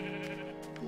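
A single sheep bleats in a block-building video game, one short, loud, wavering call heard close and alone.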